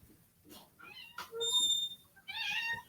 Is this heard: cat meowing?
yes